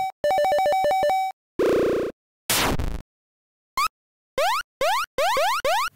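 A string of retro chiptune game effects made with BFXR: a buzzy stuttering tone, a low zap, a noisy burst, then several quick rising blips, each separated by short silences.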